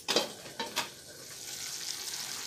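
Yardlong beans frying in a pan, a soft steady sizzle with a few sharp stirring scrapes near the start, then a quieter continuous hiss, no talking.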